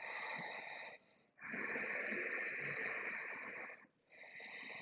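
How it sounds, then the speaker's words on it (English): Ujjayi yoga breathing through the nose with lips sealed: close, soft, hissing breaths, a long drawn airflow broken by two short pauses, quiet and alone. "Ujjayi breathing."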